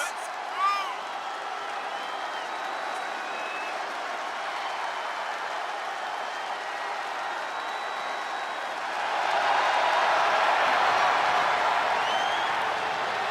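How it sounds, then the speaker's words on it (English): In the WWE 2K23 wrestling video game, an arena crowd gives a sustained ovation of applause and cheering that swells louder toward the end, with commentators talking over it. "Listen to this ovation. The WWE Universe loves cheering on the EST."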